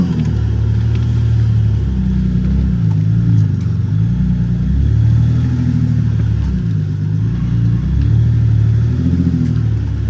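An off-road 4x4 engine shifted into four-low grinds up a backcountry hill climb, a loud steady mid-pitched drone that rises and falls in repeated revving surges, close and uninterrupted with no talking.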